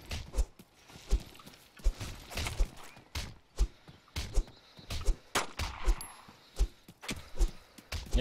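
Sharp gunshots crack repeatedly in an irregular rhythm in video game audio, some in quick bursts, over a busy noisy background.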